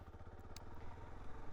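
Suzuki DR-Z4S motorcycle engine running during a traction control test, a steady low rhythmic thrum with a faint brief click, fairly quiet.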